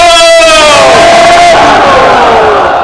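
A large crowd at a political rally shouts slogans in unison, a loud sustained roar of many voices swelling and then slowly fading.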